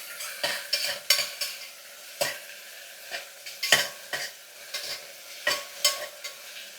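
Ingredients for mente bath frying in a pan, with a steady sizzle under repeated sharp scrapes and knocks of a spoon stirring against the pan, close and fairly loud, with no talking.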